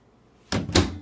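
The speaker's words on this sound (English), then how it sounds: "then shut your door," Microwave oven door shut during home lip balm making, heard as two close, loud thumps about a quarter second apart, the second stronger with a brief rattle.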